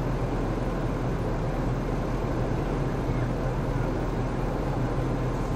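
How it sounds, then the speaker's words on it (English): Boat engine running out on open water, a steady, continuous low rumble and broadband drone with no breaks, moderately loud and unchanging throughout. "Probably hear my engine."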